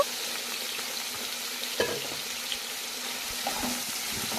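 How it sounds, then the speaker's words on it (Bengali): Marinated prawns frying in hot oil, a continuous close bubbling sizzle at an even level, broken by a couple of soft stirring clicks. "দেখতে পাচ্ছেন আমি চিংড়িটাকে ভেজে নিচ্ছি"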